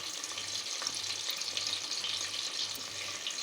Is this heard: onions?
yes